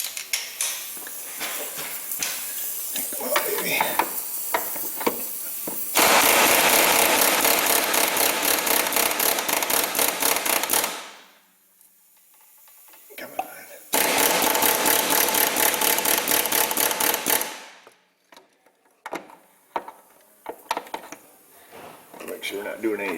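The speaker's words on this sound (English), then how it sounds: "Get the air hammer on and see if we can't just, ouch, dang it, give it a little jiggle." A Snap-on pneumatic air hammer rattles against a corroded stud on a Kia Sedona during rear A/C line work. It runs in two long, loud bursts of rapid hammering, with rubbing, clanks and talk between them.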